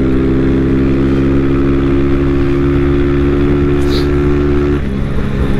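A group of motorcycles, including a Honda Titan 160, ride together on the way to a motorcycle meet, a steady loud engine drone with sustained tonal hum and no talk.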